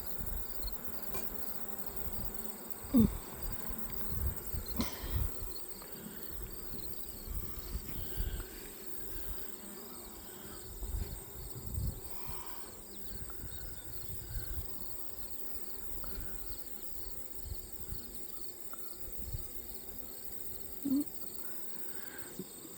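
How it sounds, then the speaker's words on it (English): Honeybees at a hive during an inspection: a soft, steady insect drone hums at low level throughout, with faint scattered rustles and small bumps; no one speaks. "This is the way I like my bees, nice and quiet."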